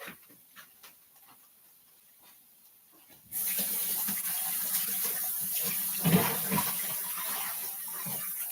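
A kitchen tap turns on partway through and water runs steadily for rinsing off, a close, constant rushing hiss with a slight splash, after a quieter stretch of small handling noises.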